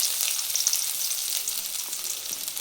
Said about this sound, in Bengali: এখন আমি ওই তেলের মধ্যেই দিচ্ছি এখন পেঁয়াজ।